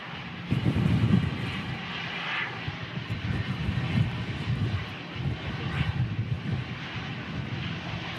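An aircraft lands at Manchester Airport in strong crosswinds, a broad roaring engine rumble that swells and fades over several seconds, with gusty wind buffeting the microphone.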